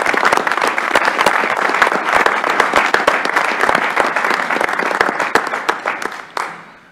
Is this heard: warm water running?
no